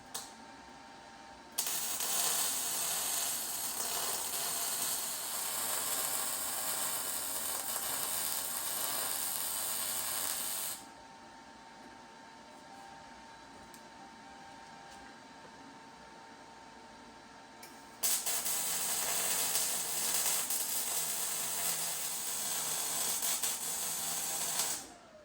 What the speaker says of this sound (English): I might as well sand this whole face here because we're going to be putting the brackets for the hinge on there